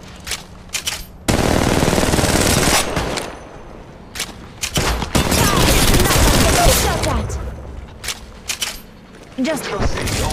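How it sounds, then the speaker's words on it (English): Rapid automatic gunfire bursts in the mobile battle royale Apex Legends Mobile, loud and sustained over several seconds with shorter stuttering volleys around it, over game music and a voice in the background. "They're shooting at me!"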